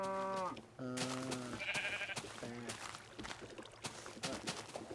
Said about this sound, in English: Get out of here, sheep.